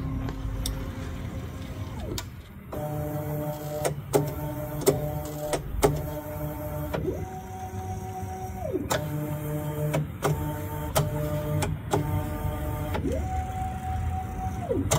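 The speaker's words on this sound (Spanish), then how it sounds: "la impresora debería ya empezar a tocar en todos lados para hacer la malla." A large 600x600 Voron Trident 3D printer probing its bed for mesh calibration: repeated motor whines sweeping up and down in pitch, broken by sharp clicks at each probe touch, steady and close.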